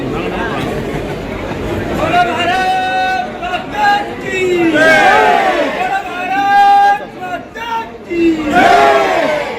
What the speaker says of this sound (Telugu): వారికి గట్టిగా చప్పట్లతో ఆహ్వానించబడాలి